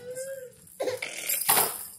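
A single sneeze indoors on Christmas Day: a sharp, breathy burst near the mic, following a short vocal squeal and a softer rustle, with no speech.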